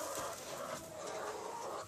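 A flock of farm chickens in an egg stall clucks and murmurs continuously at close range, with dense overlapping calls and no talking.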